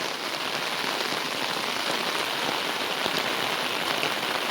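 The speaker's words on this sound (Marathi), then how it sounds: "अजून पाऊस वाढला." Heavy Konkan monsoon rain pours down steadily over flooded paddy fields, making a dense, even roar of drops striking surfaces with no letup. No voices are heard.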